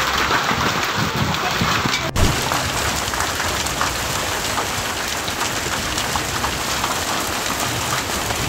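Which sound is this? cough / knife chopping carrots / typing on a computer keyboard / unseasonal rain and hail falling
unseasonal rain and hail falling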